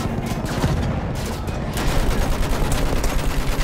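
Heavy machine gun fire in Battlefield 1 rattles on without a break, loud and dense, with battle noise layered underneath throughout.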